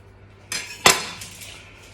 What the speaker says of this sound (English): Just use the weight of the knife to do the scores.